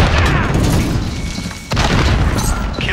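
A grenade in Call of Duty Modern Warfare multiplayer goes off as a heavy, close boom, with a sharp renewed blast partway through amid loud low rumbling.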